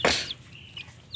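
A single short chicken call up front, then faint chirpy bird notes in a quiet outdoor setting.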